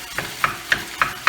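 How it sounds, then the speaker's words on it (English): Rice being fried and reheated in a pan for fried rice, with a steady soft sizzle and about five quick scraping stir strokes at a regular pace, close by and with no talking. "I'm just this time I'm heating it up, so I might as well fry it, right?"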